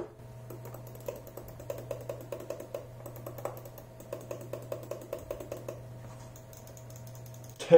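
Series of crisp button clicks from a budget gaming mouse with Omron switches, roughly twenty quick clicks in an irregular rhythm, close and fairly loud, with a steady low hum underneath and no talk.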